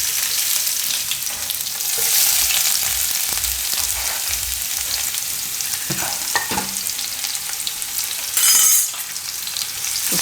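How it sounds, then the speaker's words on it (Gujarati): Turmeric roasting in hot oil in a pan, a strong steady frying sizzle with stirring scrapes and a brief louder hiss near the end, no voices. "તો થોડીક વાર હળદરને આમાં આપણે શેકી લેવાની, તેનો કાચો ટેસ્ટ ન આવે."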